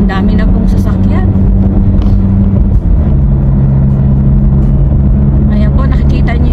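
Heavy road traffic rolls past close by, a loud continuous rumble of many car engines with tyre noise swelling and fading, while a person talks over it.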